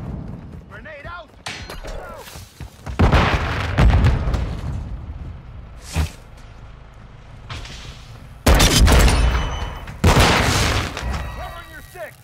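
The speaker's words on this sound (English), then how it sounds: "Grenade out." Grenade blast and bursts of gunfire during a Call of Duty Modern Warfare 2 multiplayer match on the Alboran Hatchery map, loud booming hits and sharp cracks scattered over twelve seconds with in-game voice callouts between them.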